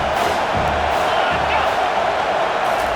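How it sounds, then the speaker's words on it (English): A college football stadium crowd in a Michigan Wolverines game roars continuously, a loud, dense wash of cheering with occasional sharper swells, no clear talk on top. "This crowd trying to make life miserable for this offense."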